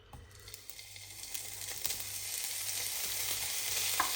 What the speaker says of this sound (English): Now the meat. Fry seal the meat.